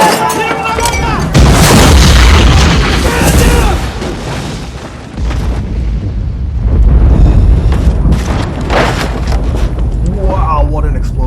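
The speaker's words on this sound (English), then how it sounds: "Wow, what an explosion." Massive explosions tear through a drug production plant in the 1994 action film Clear and Present Danger: loud, rolling booms with heavy low rumble, one blast kicking in early and another around the midpoint, sustained throughout.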